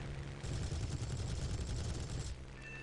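Aircraft gunfire in the War Thunder game, a dense continuous burst of rapid shots lasting about two seconds over engine drone.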